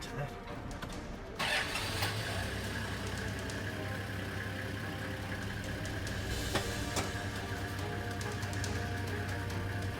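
A Toyota Land Cruiser Troopy engine cranks and catches, then settles into a steady, moderately loud diesel-like idle that runs throughout with a low rumble.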